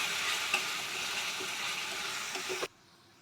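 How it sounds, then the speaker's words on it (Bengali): Green chili and garlic paste fries with onions in a pan for a South Indian style egg masala curry, giving a loud, steady sizzle that is being stirred and then cuts off abruptly near the end. "এবার আমি কাঁচা লঙ্কা আর রসুনের পেস্টটা দিয়ে দেব। দিয়ে ভালো করে কষিয়ে নেব"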